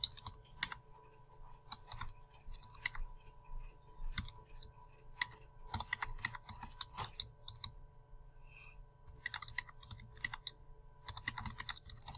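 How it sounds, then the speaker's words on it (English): Keys clatter on a computer keyboard as a question is typed, close and fairly quiet, in quick irregular bursts of clicks separated by short pauses, with a faint background hum and no talking. "so you type out your question, whatever it might be"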